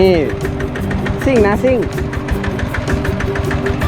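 An iTaek farm truck engine runs while being driven, giving a loud, steady, rhythmic knocking chug throughout, with people's voices talking and exclaiming over it.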